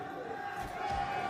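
Esports fans at a Rainbow Six Siege playoff match cheer for FaZe Clan, a steady roar of crowd noise in an arena with chants and shouts swelling slightly toward the end.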